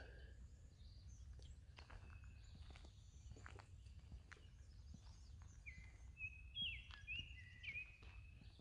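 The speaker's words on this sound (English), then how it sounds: "That was the Baltimore oriole singing back over that way" A Baltimore oriole sings from a distance in an arboretum, a few short clear whistled phrases late on, with other small bird chirps, footsteps and a low outdoor rumble beneath.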